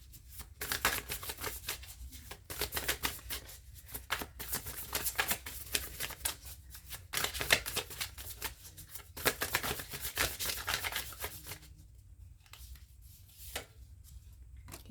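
Tarot cards are shuffled by hand at close range in repeated bursts of riffling and sliding, with short pauses between, the soft papery flutter continuing steadily and alone.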